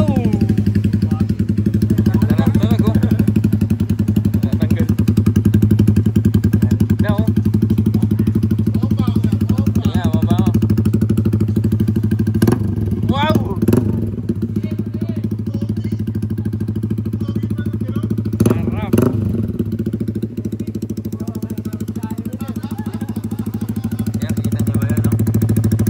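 Motorcycle fitted with a replica Pro Power exhaust pipe running steadily, a continuous low engine drone with a few sharp clattering knocks partway through, and someone talking at times over it.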